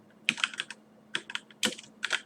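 Quick bursts of keystrokes on a computer keyboard, heard as three or four short clusters of clicky taps separated by brief pauses, close and fairly quiet with no talking.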